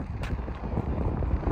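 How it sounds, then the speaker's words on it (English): Steady rumbling wind buffets the microphone throughout, a constant low roar with no clear voices. "It's windy. I don't know if you guys will hear me"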